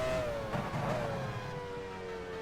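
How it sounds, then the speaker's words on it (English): A Formula One car engine in the racing video game F1 Challenge 99-02 whines steadily at the 1999 Italian Grand Prix, its pitch gliding down then rising again as another car closes in to lap, under constant engine drone. "I hear another car about to lap me."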